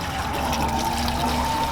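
Fuel glugs and trickles steadily from a heavy can while an engine is refuelled at a track practice day, a continuous close liquid pour with no talk over it.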